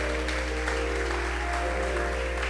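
A church congregation claps along with steady, busy applause over a sustained musical drone with low hum, a continuous patter that stays even and moderately loud throughout.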